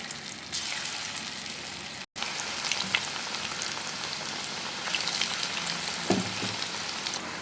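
Pakoda fries in oil over a medium flame, giving a steady, close hiss and crackle that runs nearly unbroken throughout, with occasional faint clinks.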